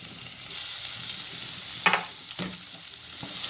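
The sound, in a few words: sautéing finely chopped onions with cashews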